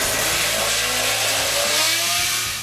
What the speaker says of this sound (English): The Mazda R26B 4-rotor engine is one of those marvels that shook endurance racing to its core